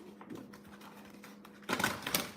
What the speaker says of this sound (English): And we're just going to shuffle all these cards.